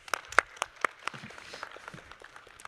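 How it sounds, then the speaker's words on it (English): Audience applause for a guest speaker taking the stage at a tech conference, a burst of sharp claps at first that thins into scattered, lighter clapping. "Give him a warm applause."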